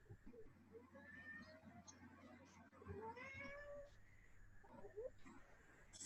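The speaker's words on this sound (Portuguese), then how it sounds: "Renata, seu gato tá concordando, né?" A house cat meowing indoors, several plaintive rising and falling meows, moderately close but soft, over low room hum and faint background voices.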